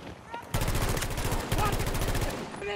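Close, loud automatic gunfire in Battlefield 2042 rattles off in rapid bursts, broken by a short gap, while players talk over the shooting.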